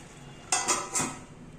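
Metal cooking pot lid lifted off a pot of simmering drumstick (moringa) leaves with butter beans: three quick close metallic clinks and scrapes spaced about a quarter second apart, over quiet kitchen background.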